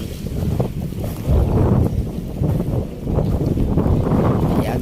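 Strong wind sweeps across the Manila Bay Dolomite Beach, a loud, continuous roar with heavy low rumbling gusts buffeting the microphone and surging in strength throughout.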